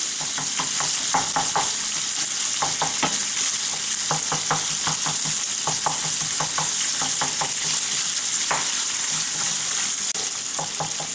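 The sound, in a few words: sausage sizzling and browning in a frying pan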